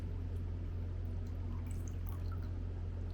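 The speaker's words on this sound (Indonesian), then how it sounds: "Lalu kita perlahan masukkan airnya." Water poured slowly into a container for a ping-pong ball lift experiment, a steady soft trickle heard alone throughout, fairly quiet.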